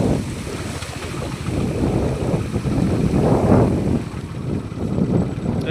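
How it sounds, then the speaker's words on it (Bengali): Floodwater rushes along a road in Medinipur, a loud, steady broadband roar of flowing water with gusty swells and no voices. "রাস্তা দিয়ে সব জল যাচ্ছে।"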